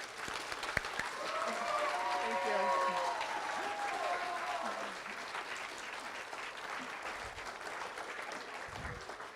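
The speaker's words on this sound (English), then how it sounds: "I would like to give one more round of applause to say thank you, thank you, thank you for all that you've done for Belleville." An audience at a middle school awards ceremony in Belleville claps in a sustained round of applause that swells and then gradually tapers off, with some scattered voices mixed in.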